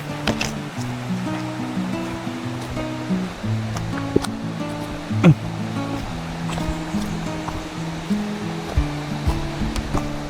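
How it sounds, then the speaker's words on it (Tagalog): A forest waterfall roars steadily as a broad, continuous rush of water, loud and unbroken, with a few faint knocks and scrapes on top; nobody speaks. "Naririnig ko na yung falls."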